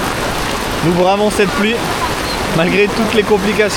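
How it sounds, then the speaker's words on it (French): Heavy rain pours steadily during a trip in Vietnam, a dense, loud hiss filling the whole clip while a person talks over it. "Nous bravons cette pluie."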